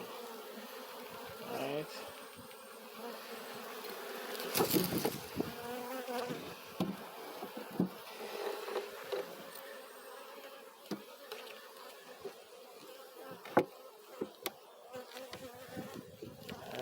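Honeybees crowd around a queen cell in a hive taken down from a tree, buzzing in a steady, dense close drone with a few louder passes near the listener; one brief spoken word.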